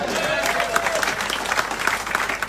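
Audience applause at a motivational speech event in a hall, a steady wash of clapping lasting throughout, fairly loud and even, with no one speaking over it.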